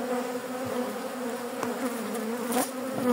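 Honeybees swarming around a colony as Langstroth frames are moved, a dense, steady, close buzzing drone throughout, with a brief louder pass near the end and no voices.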